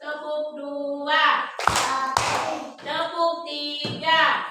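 Children in a first-grade classroom clap in a rhythmic counting clap routine, a few sharp, close handclaps spaced between chanted voices.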